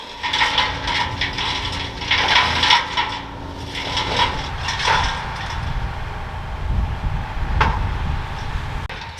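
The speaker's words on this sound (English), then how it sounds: "Excuse the noise in the background because they're cutting trees down there." Distant tree felling on the Malvern Hills, with irregular bursts of mechanical cutting, knocks and crunching wood carried faintly on the open air, sometimes rising and easing, no voices.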